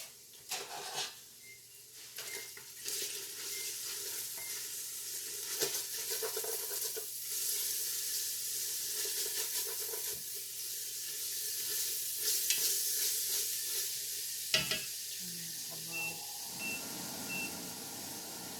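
Food sizzles steadily in a pan while being stirred, with scraping clatters from the utensil and occasional sharp knocks, all at moderate volume with no talking.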